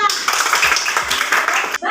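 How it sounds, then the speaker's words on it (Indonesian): Dense applause from a class of children clapping their hands in a classroom, a steady burst of overlapping claps lasting nearly two seconds before stopping abruptly. "Bagus, tepuk tangan."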